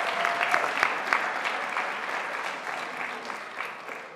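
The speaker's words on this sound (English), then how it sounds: "let's give a round of applause for all our staff and students who went above and beyond" An audience at a high school graduation ceremony claps in steady, dense applause that fades slightly toward the end.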